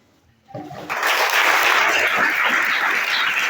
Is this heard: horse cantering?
no